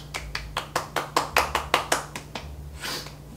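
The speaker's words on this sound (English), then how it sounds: "Clap it together and slap it on my face." Hands clapping and patting toner onto a face: about a dozen crisp, close slaps in a quick, even rhythm, followed by a softer rustle.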